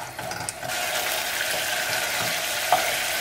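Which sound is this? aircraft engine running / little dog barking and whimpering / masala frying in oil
masala frying in oil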